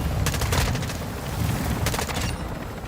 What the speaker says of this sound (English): I was being sniped at